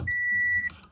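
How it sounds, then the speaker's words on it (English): A single steady electronic beep tone, loud and close, lasts just over half a second before cutting off. "Oh, not the beeping."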